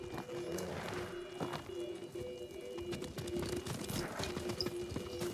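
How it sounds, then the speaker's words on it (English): Steady clip-clop of horse hooves at a running pace in the video game Ghost of Tsushima, loud and continuous over a busy background of ambient sound. "Probably had to get on the horse"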